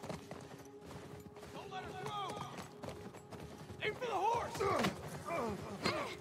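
Horse hooves gallop in The Last of Us Part I at the Lakeside Resort, a soft rhythmic clip-clop running under game sounds and someone talking over it.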